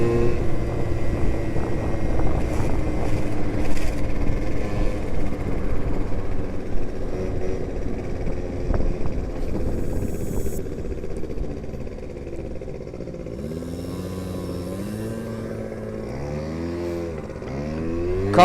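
Scooter accelerating and pulling away, a buzzy engine droning steadily, then several rising revs in quick succession as it speeds off.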